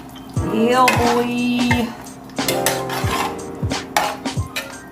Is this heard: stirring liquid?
yes